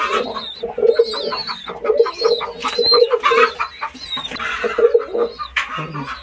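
Pigeons in a breeding loft coo and murmur continuously up close, layered throaty calls overlapping with occasional wing flutters and scuffling.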